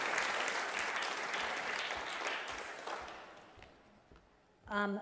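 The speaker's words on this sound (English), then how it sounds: "please give him a round of applause" Talk show audience applause at a live Amsterdam comedy show, dense clapping that gradually thins and fades before a voice speaks briefly at the end.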